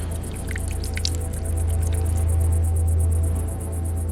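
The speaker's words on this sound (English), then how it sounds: "as the water drips out, they can use lines marked on the side of the bucket to tell how much time has passed through the night" Water dripping steadily from a marked bucket water clock, a close, regular drip pattern over a low steady hum, with no voices.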